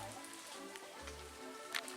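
Steady outdoor rain hisses across the whole moment with an even, moderately loud wash, heard from a hillside stairway above a golf course in mainland Scotland, with a few faint knocks and patters breaking through.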